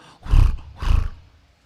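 A lion lets out two deep, rumbling roars, each lasting about a third of a second, loud and close with a short pause between them.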